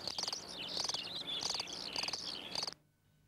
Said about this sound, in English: The chirping of a cricket fans out from its burrow